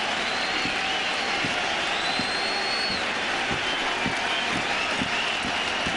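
A packed Fenway Park crowd in Boston keeps up a continuous loud roar of cheering and clapping during the 2007 World Series as pitcher Beckett goes for a strikeout.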